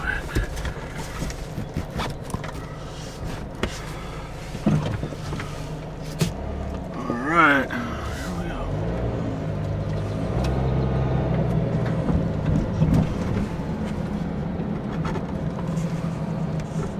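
Car driving on a road with other cars around, a steady engine and road rumble heard from inside, with a couple of louder passing swells, under loud talk.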